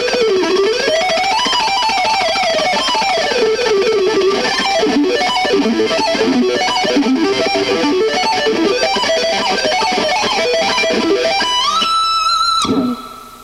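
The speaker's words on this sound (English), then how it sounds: "I'm going to start off with a little ascending riff," Distorted electric guitar plays a rapid ascending riff in a speed lesson, with dense fast picking that winds upward over many seconds, then a sliding bend into a sustained high note that cuts off abruptly.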